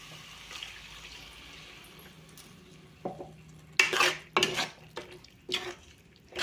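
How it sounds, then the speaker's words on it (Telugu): A brinjal and beans curry is stirred in a pan over a soft background simmer, with several loud, close scraping and clattering strokes of a spoon against the metal. "అడుగు పట్టకుండా ఉండడానికి ఇలాగ మధ్య మధ్యలో కలపాలండి"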